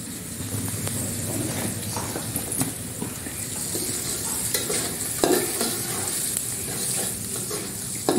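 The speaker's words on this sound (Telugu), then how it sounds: "మళ్ళీ మొత్తం మిక్స్ అయ్యేలా కలుపుకోవాలి" A sizzling mixture in a pan stirred steadily, a continuous loud frying hiss with scraping spoon strokes throughout and no talking.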